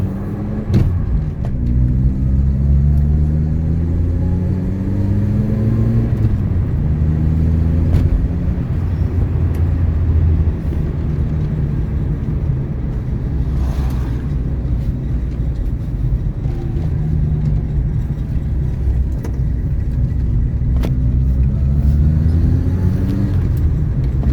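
A 1974 Honda Civic engine hums loud and close while driving, its pitch rising and falling through repeated accelerations and gear changes over a constant road rumble, with no speech.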